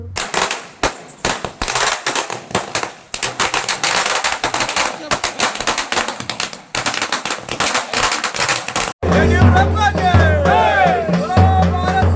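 Rapid strings of firecrackers bursting in crackling volleys, loud and dense, giving way to a noisy crowd with music near the end, at a street celebration of Modi's third swearing-in.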